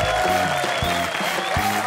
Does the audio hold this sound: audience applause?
yes